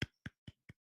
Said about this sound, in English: Give you a little clap there.